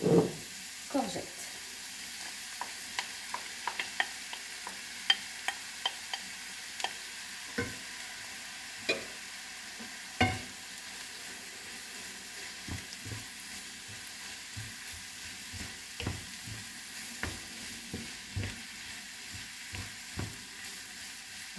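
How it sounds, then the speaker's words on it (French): Courgettes sizzle in a frying pan with a quiet, steady hiss, broken by repeated scraping and clacking as they are stirred at irregular moments. "continue comme ça, je mélange bien"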